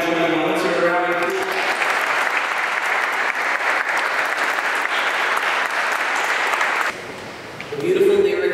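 A school crowd at a senior ring day ceremony applauds, dense sustained clapping for about seven seconds that ends abruptly before brief voices follow.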